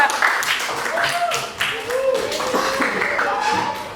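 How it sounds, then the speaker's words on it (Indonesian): Students in a classroom applaud a student group as it comes forward, a moderate patter of clapping mixed with chatter and voices throughout. "Beri tepuk tangan untuk kelompok 2"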